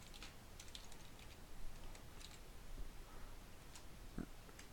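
A computer keyboard is typed on quietly, with scattered soft key clicks over a steady hiss, no voices.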